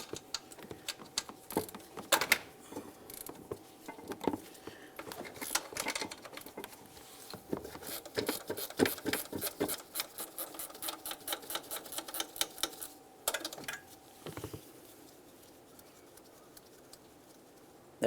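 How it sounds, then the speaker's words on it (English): Ratchet clicking away at a 13mm mounted stud that holds the oil fill tube to the intake on a 1998-2002 Lincoln Navigator engine: dense runs of quick, close mechanical clicks in bursts, pausing briefly, then a final short flurry. "Now let's remove the stud that was behind that bracket."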